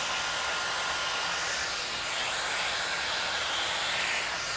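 Hair dryer fitted with a diffuser nozzle, blowing steadily at close range during a mid taper fade mullet haircut, a continuous airy hiss with no pauses.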